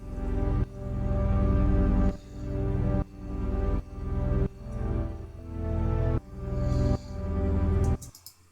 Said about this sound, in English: This first one is also a serum patch,